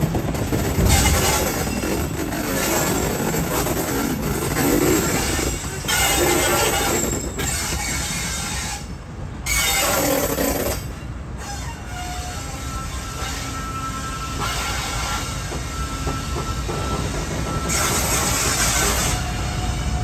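Allama Iqbal Express passenger train, heard from inside a new AC coach near Lahore, rumbling loudly over a sharp track switch with steady heavy clatter, metallic wheel squeal and brief surges of grinding noise throughout.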